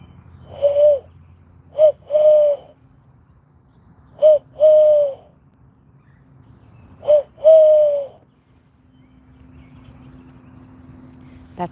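A person imitates a bird call with their voice, making three short groups of whistled coos or hoots separated by pauses, fairly close and clear, with quiet background afterward.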